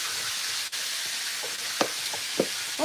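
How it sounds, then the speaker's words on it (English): Chicken pieces frying in hot grease give a steady, close hiss of sizzling, broken by a few small pops and light clicks over a few seconds, with no talking. "I'm just frying a few pieces of chicken up."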